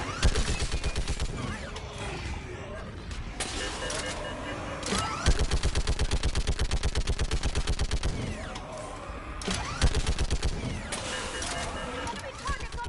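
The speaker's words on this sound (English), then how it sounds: "Keep firing!" Sustained gunfire from Mass Effect 3 Remastered, with rapid automatic bursts and repeated weapon fire over a constant loud battle bed, continuing for the whole stretch while voices shout over it.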